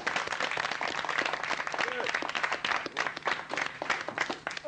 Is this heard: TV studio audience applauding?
yes